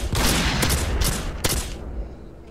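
In the video game DayZ, a burst of rapid gunfire rattles off, followed by a couple of sharp, echoing sniper shots from a distance, loud and crackling.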